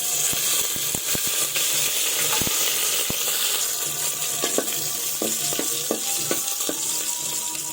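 Panch phoron spices frying in hot mustard oil in a pan, a dense steady sizzle with scattered sharp pops and crackles throughout.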